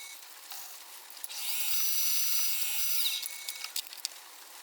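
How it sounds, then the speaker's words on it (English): A high-pitched drill whines steadily for a couple of seconds drilling holes in metal, with brief tool noises before and after, fairly close and moderately loud. "Now after drilling the holes"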